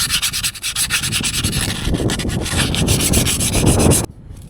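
A tractor starter is scrubbed clean with steady, coarse rubbing strokes, loud and close. The scraping keeps a continuous gritty rhythm for about four seconds, then stops abruptly, leaving only faint background noise.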